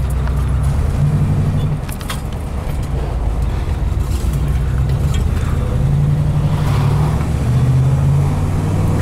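A 1955 Oldsmobile 98 Holiday sedan drives through traffic near Laguna Beach, its engine a steady low rumble throughout, close and fairly loud, with faint rattles and no talk over it.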